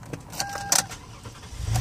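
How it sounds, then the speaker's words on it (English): A 2014 Toyota Sienna mobility van with 87K miles is started, with keys jingling, a brief dashboard chime and clicks, then a low engine rumble rising at the end. "When I go to turn this van on"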